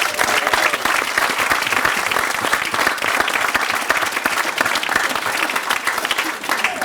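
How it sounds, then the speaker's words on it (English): Wedding guests give the bridal party a round of applause at the reception, dense and loud continuous clapping from a large crowd, steady throughout. "Let's give them a round of applause."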